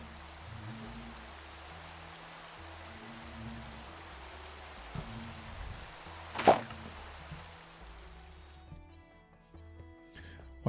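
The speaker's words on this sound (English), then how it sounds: "We'll get rid of this rain while we're at it." Steady rain pattering in Minecraft, a soft continuous hiss of drops layered with low game music tones, cutting off near the end as the weather clears.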